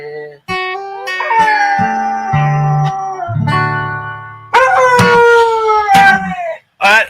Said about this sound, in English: That dog is on key tonight.